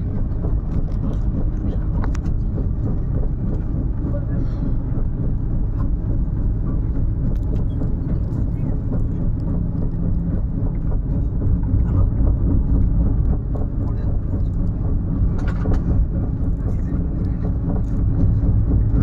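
A Puri-Sealdah Duronto Express running fast, heard from inside an AC two-tier coach as a loud, steady low rumble and rattle that goes on without a break, with occasional faint knocks.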